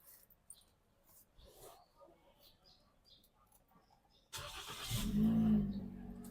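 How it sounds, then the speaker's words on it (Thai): A 2023 Toyota Yaris 1.2 engine cranks and starts after a few seconds of quiet cabin handling noises, then settles into a loud, close, steady idle hum. "สตาร์ทรถให้ดูกันเลยนะคะ"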